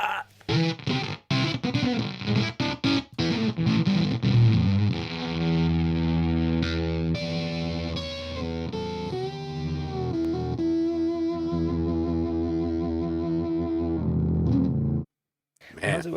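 Synth tone pushed through a crushed, compressed distortion effect, a dense buzzing sustained drone with choppy stuttering bursts at the start and an abrupt cutoff near the end.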